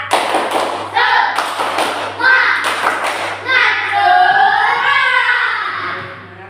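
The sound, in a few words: children doing rhythmic spirit clapping (tepuk semangat)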